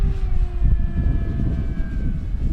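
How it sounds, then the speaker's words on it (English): An FMS P-40B Flying Tiger RC model warplane, 1400 mm span, flies past with a steady electric whine that slowly drops in pitch, over heavy wind rumble. "It's a very nimble airplane."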